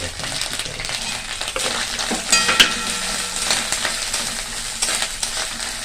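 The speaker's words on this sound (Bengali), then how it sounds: "নারকেলটা ভাজা হয়ে যায়" Grated coconut fries in a pan with a dry chilli, giving a close, crackling sizzle broken by sharp metallic scrapes and clinks of a utensil stirring against the pan.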